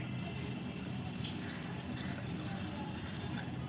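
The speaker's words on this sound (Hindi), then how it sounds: "अब इसमें 3/4 जितना पानी डाल देंगे।" Water poured onto a cup of sugar in a pan to start jalebi syrup makes a steady, soft, even splashing rush that runs unbroken from start to finish.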